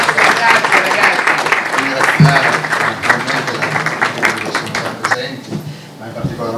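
Applause from an audience at a fashion-for-peace event, a dense steady patter of clapping with speech mixed in, tapering slightly toward the end.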